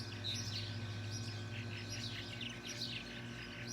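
Purple martins call from a house roost, several birds chirping and twittering in quick, scattered bursts at moderate distance over a low, steady background hum.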